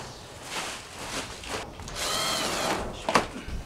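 Power tool driving bolts into the frame of a large steel storage shed, a whirring buzz rising and falling in short bursts with a few knocks and clatters, close by and moderately loud.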